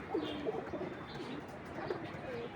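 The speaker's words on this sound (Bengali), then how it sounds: "আজকে কবুতরগুলো, এই যে মাদি কবুতরগুলো ছাড়ছি" Pigeons coo in soft, low phrases while female birds are let out, the calls faint and scattered over a steady background hum.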